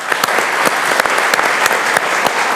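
A studio audience bursts into loud, sustained applause for a singer on a Kurdish television talent show, dense clapping close and continuous throughout with sharper individual claps standing out.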